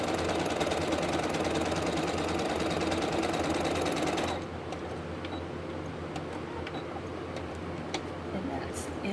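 A sewing machine runs a straight stitch along a pillow with a fast, steady mechanical whir and ticking for about four seconds, then stops, leaving quiet room tone with a few faint clicks.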